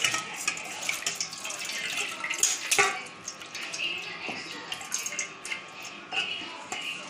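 Water drains and trickles off soaked grated potato in a home kitchen, a steady close splashing and dripping with a few sharper clinks, continuing throughout.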